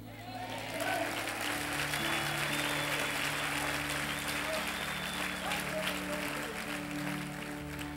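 A church congregation applauds in a continuous, even roar of clapping that fills the room, while a voice and steady tones carry on underneath.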